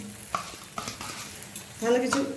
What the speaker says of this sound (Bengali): ভালো করে সব কিছুকে মিশিয়ে নেব।